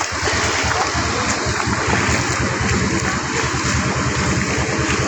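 Floodwater current rushing across a main road in a flooded village in Sonaimuri, Noakhali, giving a steady, loud broadband wash with splashing that carries on without a break.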